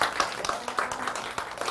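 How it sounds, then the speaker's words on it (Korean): Faint applause at a sales leadership training session, with rhythmic claps repeating steadily at some distance across a short stretch. "네, 박수 부탁드립니다."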